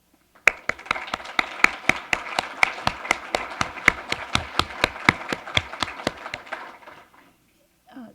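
An audience at a university social work pinning ceremony claps steadily and rhythmically in unison, about two dozen evenly spaced claps ringing out before stopping abruptly into silence.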